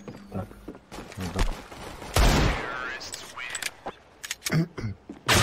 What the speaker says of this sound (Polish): Dałem dwa strzały w tej rundzie.